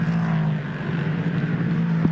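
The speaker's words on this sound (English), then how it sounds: "you can hear the rumble of the engine" A prototype race car engine drones steadily at the Hockenheimring during a Prototype Cup Germany race, a low continuous rumble heard from the onboard perspective with a brief spike near the end.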